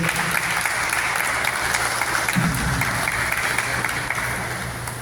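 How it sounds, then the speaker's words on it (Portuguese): A church congregation claps together in worship, a steady, fairly loud wash of applause that holds evenly for several seconds. "Aplauda o Senhor, glória a Deus."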